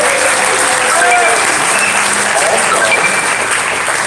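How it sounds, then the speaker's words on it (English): Audience applause at a Litecoin cryptocurrency summit, steady dense clapping throughout, with voices talking over it and a brief spoken remark. "Very good at clapping for themselves."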